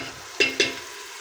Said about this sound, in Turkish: Kavurma gibi bir şey yapıyor şöyle soğan